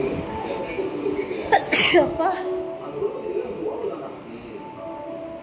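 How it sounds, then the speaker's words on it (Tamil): One loud, close human sneeze bursts out midway during a sneezing challenge at home, with a person speaking briefly around it. "தும்மல் எப்படி வந்திருக்கு பார்த்தீங்களா?"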